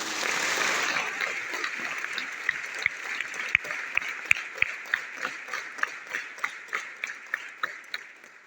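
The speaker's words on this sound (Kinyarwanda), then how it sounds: "Mwabahaye amashyi se nawe." A congregation at a mass in the Kibeho chapel applauds the pilgrims with a burst of dense clapping. It settles into a slower, steady rhythmic clap with crisp, evenly spaced beats that continues for several seconds.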